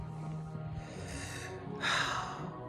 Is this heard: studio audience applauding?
no